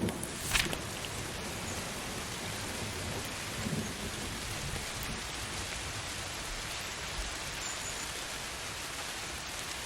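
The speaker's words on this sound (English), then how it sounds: "you have gotten out of the rain as it begins to pour" Heavy rain pours down steadily in a tabletop role-playing game scene, a dense, constant wash of noise with no talk, broken only by a brief low rumble near the start.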